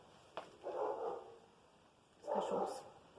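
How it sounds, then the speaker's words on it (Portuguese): Dogs barking faintly in the distance, two short bursts of muffled yapping about two seconds apart against quiet room noise. "Os cachorros."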